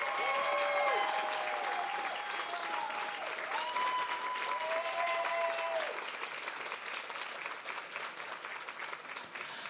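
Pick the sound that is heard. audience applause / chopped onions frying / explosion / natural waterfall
audience applause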